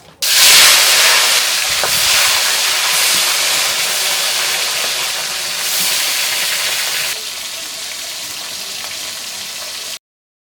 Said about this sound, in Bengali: মা মাছ ভাজতেছে